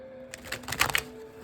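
A deck of cards is shuffled in a quick run of soft flutters and riffling clicks over a faint steady hum, brief and fairly quiet.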